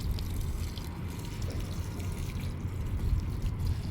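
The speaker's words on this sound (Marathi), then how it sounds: "पाईप चालू केलं आहे, सोडलं आहे, पाणी घालतो आहे" Water runs from a garden pipe onto plants, a soft, steady low splashing and gurgle with faint trickling, fairly quiet and continuous.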